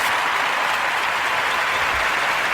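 A crowd applauds in a podcast intro, a dense, loud wash of clapping that runs steadily through the whole stretch with no voices over it.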